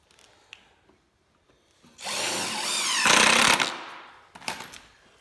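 A power drill drives big screws into a wooden speed sled for home workouts, a loud sustained whirring burst of about two seconds with rising pitch, followed by a shorter final buzz near the end.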